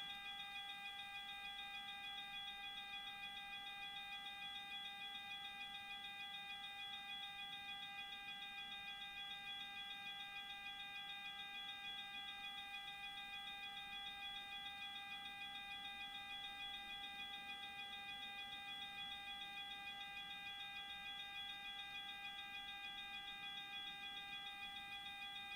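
A video game alarm sounds as a continuous steady electronic tone with several layered pitches, faint and unchanging throughout with no voices.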